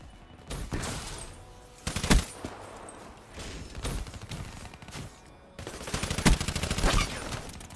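An SMG fires in Call of Duty Black Ops 3 in several sharp automatic bursts, loud and close, with short gaps between the volleys.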